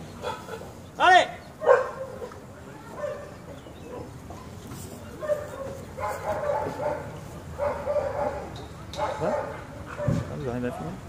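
Police dog barking and yelping in short loud bursts during an unmuzzled attack demonstration, with shouting voices and commands throughout.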